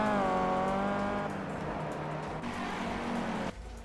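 A Renault Mégane RS races against a Focus RS in a driving game, its engine note rising and shifting as it revs, loud and close over a few seconds, then a sudden drop.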